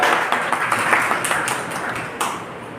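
Applause from a school audience at a gratitude gathering, a steady dense wash of clapping that holds throughout at moderate loudness and tapers slightly toward the end.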